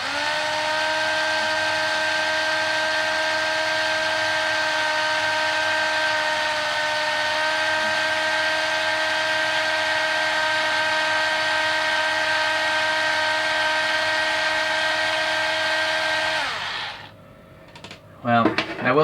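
Electric drill boring holes in a plastic plate, a steady high whine held for about sixteen seconds before spinning down, followed by a few faint clicks.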